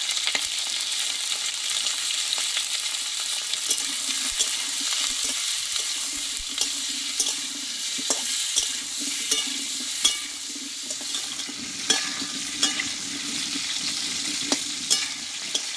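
Pointed gourd (potol) sautéing with turmeric in a pan for a vegetarian panch phoron recipe, a steady close sizzle with repeated light taps and scrapes of a stirring spoon throughout.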